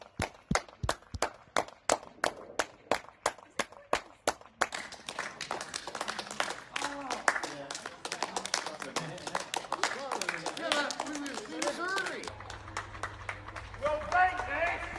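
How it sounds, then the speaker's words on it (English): Neighbours clap outdoors at 8 p.m. on a Thursday for the NHS and carers during COVID-19 lockdown, opening with a rhythmic series of sharp single claps that gives way to a dense, scattered patter of many hands with distant voices mixed in. "Every Thursday since then, at 8 p.m, people would go out and clap, getting louder and louder each week."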